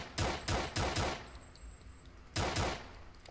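Gunfire in the video game Dismantled Director's Cut: several loud, close bursts of rapid shots in quick succession, a short pause, then another burst, with no talk.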